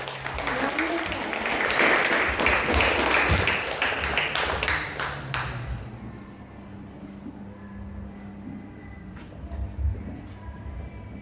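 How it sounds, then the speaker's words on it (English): An audience at a Class of 2021 graduation ceremony applauds a national spelling bee winner, with dense clapping for about five seconds that then fades into quieter room noise and murmuring. "So I think that deserves a round of applause."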